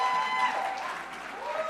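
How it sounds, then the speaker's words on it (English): Audience applause at a future-of-work dialogue conference, a steady, moderately distant wash of clapping from a crowd that holds through the whole stretch without clear individual claps. "give them a round of applause"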